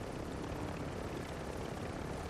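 Helicopter rotor and engine noise in the video game Warzone 2, a steady dense broadband roar with no distinct beats, continuous and fairly loud throughout.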